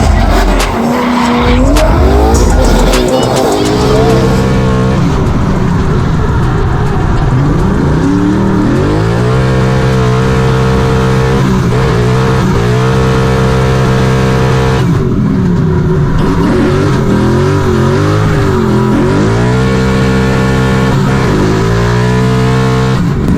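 A V8-powered car doing a burnout: loud, sustained tire screech over a roaring engine, close and continuous, with the revs rising and falling throughout.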